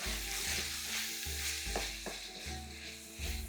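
Food being stirred in a full pot while preparing a filling with bay leaf and red pepper powder for frozen sarma in vine leaves, with steady scraping and low sizzling throughout, close and moderately loud, no talking.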